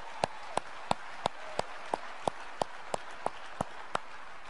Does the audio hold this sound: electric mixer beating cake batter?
no